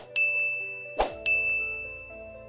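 Three bright bell dings ring out in sequence, each with a sustained shimmering decay, followed by a softer metallic clang in the middle. Together they form a crisp subscribe-bell chime with no speech.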